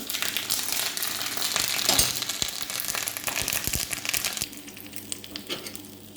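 Mustard seeds crackle and pop in hot oil in a pan while cooking elephant yam curry, a dense loud sizzle with scattered sharp spattering pops that thin out toward the end.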